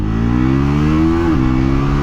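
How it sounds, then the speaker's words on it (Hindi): A 2026 Bajaj Pulsar NS400Z motorcycle pulls hard in sixth gear, its loud, close engine drone rising steadily before a brief clutchless quickshifter dip in pitch. "मैं आप लोगों को सिक्स्थ गियर में टॉप स्पीड भी दिखाता हूँ और साथ में आपको क्विक शिफ्टर का फन भी दिखाता हूँ"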